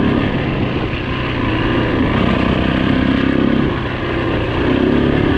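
A 2008 Yamaha WR450F dirt bike ridden hard, its engine a loud, close, buzzing drone that rises and falls gently with the throttle and carries no voices.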